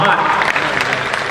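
An audience at a Hindi comic poetry gathering claps together in a dense, continuous burst of applause, loud and close throughout.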